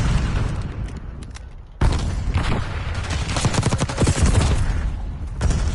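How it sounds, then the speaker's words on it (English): A grenade bursts with a heavy boom amid dense gunfire in a Black Ops 6 match, the loud crackling fusillade continuing around it. "My grenade blew up over there."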